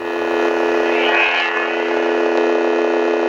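Darth Vader toy lightsaber humming with a steady electronic drone of layered tones, loud and continuous, with a brief swell in the middle and no voices.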